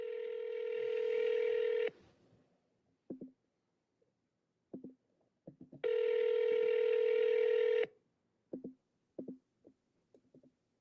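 Two long steady electronic tones, about two seconds each, on a phone line during a voicemail prompt, each followed by scattered short faint clicks and taps, with near silence in the gaps.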